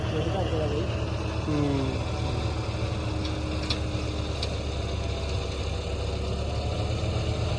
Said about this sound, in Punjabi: ਰੂਟਾਵੀਟਰ ਕੋਈ ਧੜਕਦਾ ਨਹੀਂ ਐ ਦੇਖ ਲੈ ਸਾਫ ਚੱਲਦਾ